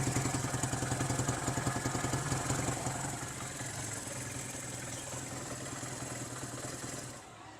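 An old-school Honda CD175 motorcycle idles steadily through its exhaust, a close, even, rapid engine pulse that eases slightly in level partway through and fades at the end.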